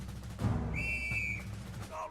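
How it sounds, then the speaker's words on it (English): A steady whistle blast in the World War I video game Valiant Hearts, a single sustained tone held for about half a second over a low rumbling battlefield background. "Oh, and that whistle."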